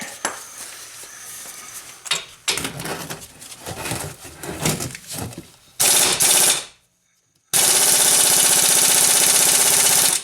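Large impact gun hammering at a 19 mm brake caliper bolt on a Nissan Rogue during a CV boot repair, with loud rattling bursts close up. A long final run follows a brief silence, and metallic clanks come before it.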